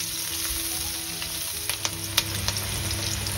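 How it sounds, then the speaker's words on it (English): Onions fry in a pan for a Thai-inspired spicy pumpkin soup, giving a steady close sizzle with a few sharp pops and faint stirring taps throughout. "Just let that fry a little bit before we add the next ingredient."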